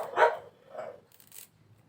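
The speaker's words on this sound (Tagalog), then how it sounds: "At saka yung aso, pag may tumahol na isa," Two or three sharp dog barks close by at a house, each short and punchy with a brief gap between, followed by fainter rustling.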